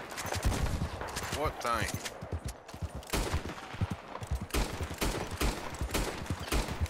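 Gunfire from Red Dead Redemption 2 Online on PC cracks out in a string of loud, separated shots, with a brief voice speaking between them.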